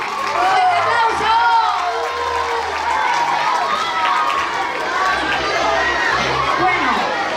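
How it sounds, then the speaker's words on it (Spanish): Audience applause at a Got Talent 2023 show, a dense wash of clapping and crowd noise under a loud, excited announcer voice throughout. "¡Fuerte aplauso!"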